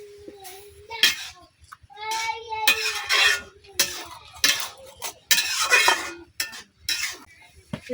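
A knife cutting fish into large pieces in a home kitchen, with sharp intermittent chops and scraping knocks against a surface, scattered over several seconds, with a voice and other voices heard faintly in the background.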